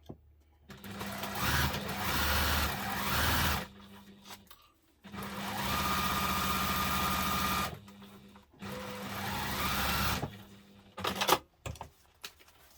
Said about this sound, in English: I'm going to stitch with the seam allowance stated in the pattern.